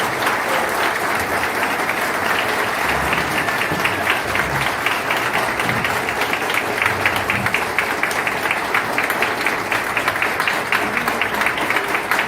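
Warm, sustained audience applause at a formal swearing-in ceremony for a bar association subsection board, dense steady clapping from a full room continuing without pause.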